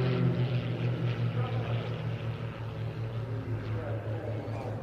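Extra 330SC single-seat aerobatic competition plane flying at an air festival, a steady loud propeller drone with a pulsing low hum throughout and faint commentary underneath.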